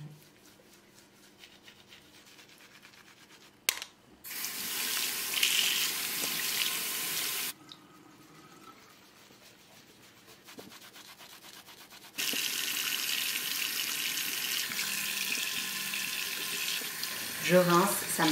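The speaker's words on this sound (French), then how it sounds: "Je rince, ça me prend quelques minutes." Tap water runs over brushes being rinsed in a sink after washing with Marseille soap, a steady close hiss of flow that starts and stops in several stretches, broken by quieter pauses with faint handling.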